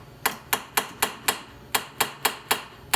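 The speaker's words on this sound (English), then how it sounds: "we're going to take the hammer and we're going to hit it a couple times" A hammer taps a rusty motorcycle exhaust stud in a steady run of sharp, ringing metal strikes, about four per second, with one brief pause midway.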